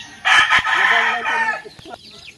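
Pet chickens nearby, a rooster letting out one loud crow that trails off, with a few softer clucks following at the end.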